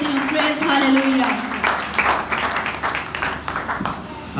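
Church congregation clapping during a Sunday service, a steady burst of applause mixed with a voice speaking and cheering over it.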